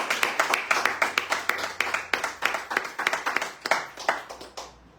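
On a radio show, a small group of people claps steadily and fairly quickly for several seconds, and the applause fades out at the end.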